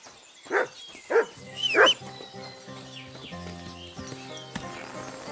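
Dog barks in the medieval role-playing game Kingdom Come: Deliverance 2, three short loud barks close together, followed by a soft music bed with no talking.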